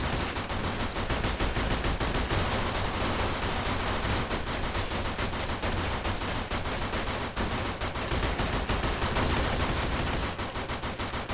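Sustained gunfire from the Mafia II video game, dense rapid shots rattling continuously at full loudness with no letup and no talking.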